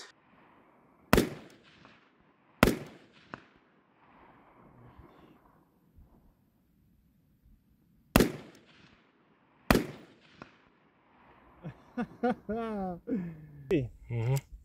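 A Daniel Defense rifle fires four loud, sharp shots at a shooting range, spaced a few seconds apart with brief ringing tails, and someone talks over quiet stretches and after the last shot.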